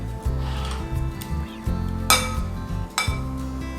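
Mushroom stems being stirred with soy sauce, cumin powder and five-spice powder in a bowl, giving a run of close scraping and clinking sounds with two sharper knocks against the dish.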